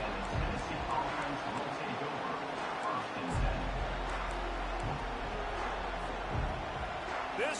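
A large college football stadium crowd roars as a steady, dense wall of noise, with a commentator speaking over it throughout.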